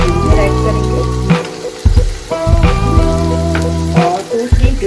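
Onions and ginger fry in an oily pan for Dhaba-style paneer, sounding as a loud, close, bubbling crackle broken by repeated spoon clinks and scrapes, with a steady background tone.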